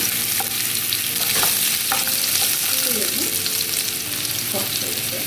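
Ginger and garlic sizzle in hot oil with fennel seeds in a pan for a paneer curry, a steady close frying hiss broken by several stirring scrapes of a spoon.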